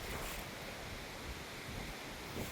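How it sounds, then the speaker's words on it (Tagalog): Strong wind blowing outdoors past flowering plants, a loud continuous buffeting roar with gusty rumble against the microphone, no talking. "Super hangin."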